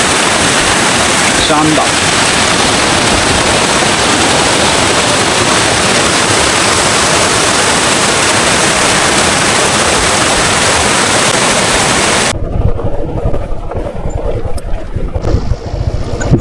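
Constant roaring rush of a waterfall beside a mountain road on a motorbike ride toward Om Parvat, loud and close, with a voice briefly heard as the roar drops away near the end.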